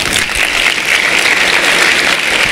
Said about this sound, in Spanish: Un aplauso con muchas ganas.